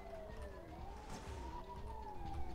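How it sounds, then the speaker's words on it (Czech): A police car siren from the original GTA video game wails continuously with a rising and falling tone, fairly faint and steady beneath dense game noise, with no voices. "Já to neumím vypnout, tu sirénu."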